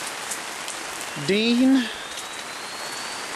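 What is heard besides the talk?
rain falling on a canopy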